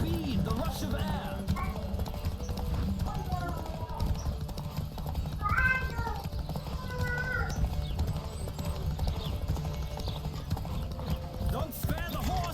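Rhythmic hoofbeats of a galloping horse in The Witcher 3 drum steadily under a dense layer of game music and voices, with occasional whinnying tones.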